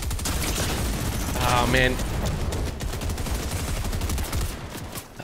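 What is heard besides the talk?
gunfire in Fortnite, video game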